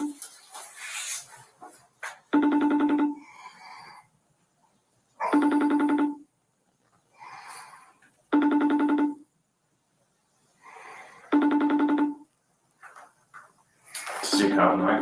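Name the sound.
phone ringing while calling someone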